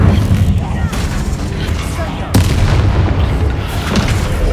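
A bomb conjured by transfiguration blasts apart in Hogwarts Legacy, a loud booming explosion about midway through, with rumbling gunfire-like reports around it in the game's noisy soundscape.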